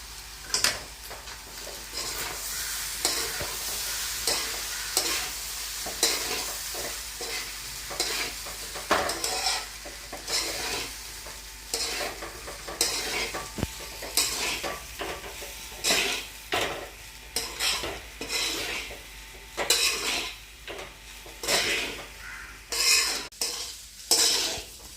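Repeated stirring and scraping in a pan of potato rice seasoned with salt and vinegar, with light sizzling and irregular spoon-on-metal scrapes and clinks, close and alone.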